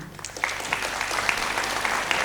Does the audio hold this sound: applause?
yes